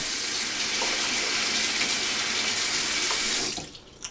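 A bathroom tap runs warm water over razor blades, a steady close hiss and splash of flowing water that continues for a few seconds, then drops away as the flow stops, with a small clink at the end.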